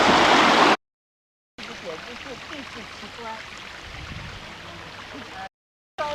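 Warm water flows steadily down the white travertine terraces of Pamukkale, a soft continuous trickling and gurgling broken by two abrupt silent gaps, with a loud burst at the start.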